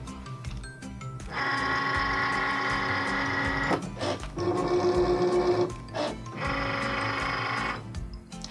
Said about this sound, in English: Once your machine has finished cutting, you can unload your mat.